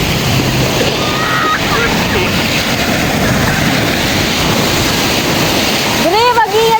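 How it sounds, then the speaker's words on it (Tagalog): Strong ocean surf crashes and roars loudly near the shore on a beach vacation, a dense continuous rush of waves and wind buffeting the microphone, with a brief shout near the end. "Ang lakas ng alon!"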